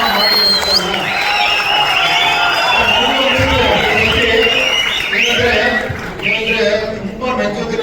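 Film audience at a Kannada cinema event whistling, clapping and cheering in a loud, dense, continuous roar that thins slightly near the end.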